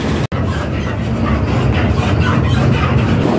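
Inside an LRT light rail station in Quezon City, a steady loud rumble of a train fills the space, with a continuous rolling mechanical roar and no clear gaps.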